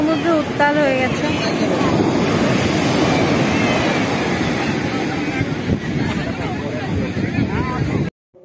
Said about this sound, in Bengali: পুরো সমুদ্র উত্তাল হয়ে গেছে